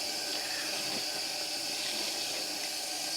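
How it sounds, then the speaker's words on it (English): Cold tap water runs in a steady, loud, unbroken hiss and splash, pouring while dyed yarn is rinsed at a sink. "This is just cold tap water."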